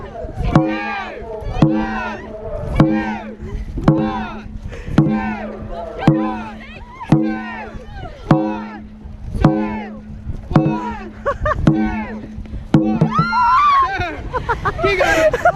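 Dragon boat crew paddling in a race practice on water, rhythmic paddle strokes about once a second with splashes, under a coxswain's shouted commands and crew voices; strokes stop near the end.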